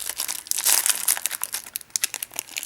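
A Pokémon TOPPS booster pack wrapper being torn open by hand, giving close, loud bursts of crinkling and ripping foil that come in quick irregular bursts, with no voices.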